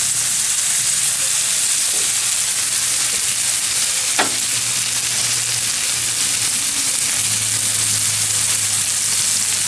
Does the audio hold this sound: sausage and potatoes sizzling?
yes